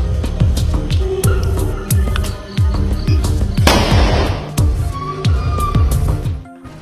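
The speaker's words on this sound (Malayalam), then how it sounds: "കോഴിക്കോട് നായ്ക്കളെ ഓടിച്ചത് പടക്കം പൊട്ടിച്ചു." Firecrackers burst in rapid, uneven succession on a street to drive off stray dogs, loud sharp cracks repeating close by with a brief hissing flare midway before the bangs stop abruptly.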